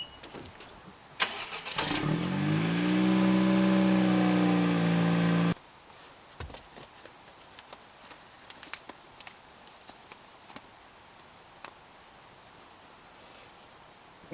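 A car engine cranks and catches, then runs at a steady idle for a few seconds and cuts out abruptly, leaving quiet background with small clicks and shuffling.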